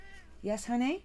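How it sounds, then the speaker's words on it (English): A cat meows twice in quick succession, close and fairly loud, while a person speaks briefly over it. "Flipping cat meowing at me."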